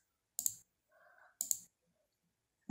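Computer mouse clicks while working in Adobe Acrobat Pro DC: two sharp, close double-clicks about a second apart with a faint muffled sound between them, then another click starting at the end, otherwise quiet.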